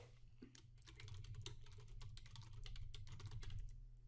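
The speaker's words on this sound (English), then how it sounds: "and then I'll type something in." Rapid keystrokes clatter on a computer keyboard as text is entered in InDesign, a dense run of close clicks over a low steady hum, with no talking.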